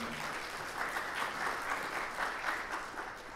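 Audience applause rises and falls for a few seconds, an even wash of clapping from a crowd at a lecture event, heard at a moderate distance with no talking over it.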